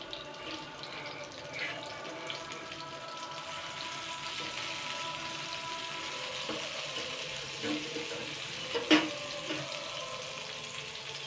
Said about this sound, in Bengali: এক সাইডে ভাজা হয়ে গেছে এবার আমি এগুলোকে উল্টে পাল্টে দেবো